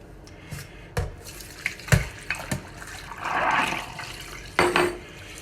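Tap water rinses a wet plate collodion photographic plate after fixing, with intermittent splashes, knocks and a swell of running water, heard close and fairly quiet.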